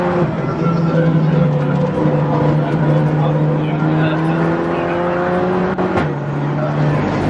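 A Golf TDI or TT TFSI race car lapping Silverstone GP in a Britcar Trophy race, its engine droning loud and close with pitch sweeping upward through the gears before a brief drop, over commentary talk.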